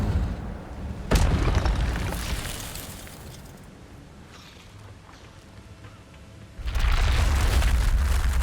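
Incendio fire spell cast in Hogwarts Legacy, a sharp booming burst that swells into a loud roaring blaze, fades into a rumbling lull, then surges again into a second loud whoosh of flame.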